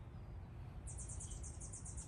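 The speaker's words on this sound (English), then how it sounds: "there's a bird. Hear the bird." Outdoors beside an ice bath, a bird gives a quick run of repeated high chirps. The calls are faint and distant over a low background rumble.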